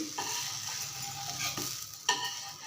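Adai batter cooking in a pan over a low flame gives a steady soft sizzle, with a couple of faint scraping touches partway through and no one speaking.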